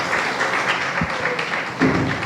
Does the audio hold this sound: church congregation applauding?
yes